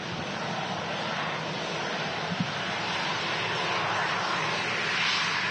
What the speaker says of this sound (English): the older Wizz aircraft, Chester Mike, they can be so loud